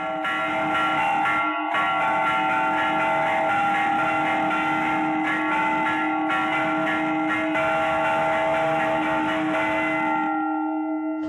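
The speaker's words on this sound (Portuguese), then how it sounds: "o toque do Ângelus" Church bells ring the Angelus continuously, loud and overlapping, their bright clanging tones sustained for several seconds before cutting off.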